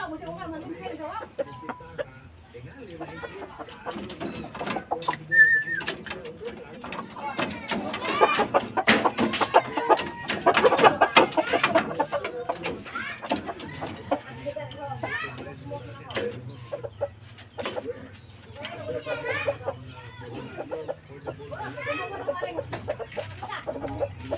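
Shamo chickens cluck and croak steadily up close, with a constant high electrical whine running throughout.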